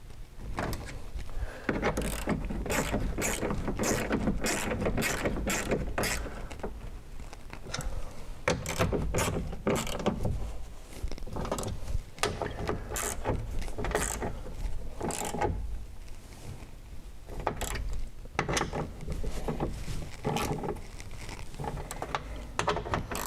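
A car's power window mechanism clicks repeatedly in a dense, irregular series of sharp mechanical ticks and knocks, close and fairly loud over a low background hum, with no talking.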